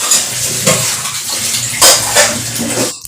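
Dishes are washed under running water, with a steady splashing tap stream and intermittent clinks and clatter of utensils, loud and close, with no talking.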